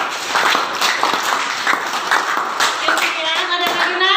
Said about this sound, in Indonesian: Iya, berikan tepuk tangan Nak.